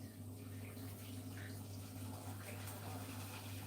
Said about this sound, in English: Put them in the pan. Boiling water. Just boiled in the kettle.